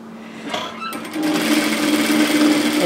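A sewing machine runs a steady stitching whir while sewing the strap of an apron dress. It starts quietly after some brief handling clicks, then holds loud and continuous up close.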